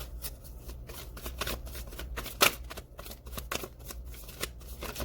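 A deck of tarot cards is shuffled by hand close up, a quick run of crisp riffling flutters with one sharper snap in the middle, fairly quiet and without talk.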